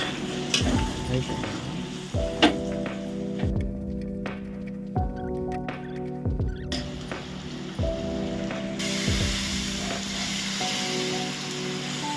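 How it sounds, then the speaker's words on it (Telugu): Boti (tripe) frying with ginger garlic paste in a pan gives a steady, close sizzle, broken every couple of seconds by stirring scrapes, with no talking. "2 స్పూన్లు అల్లం వెల్లుల్లి పేస్ట్ వేసాం కదా, దీంతో పాటు ఫ్రై చేద్దాం"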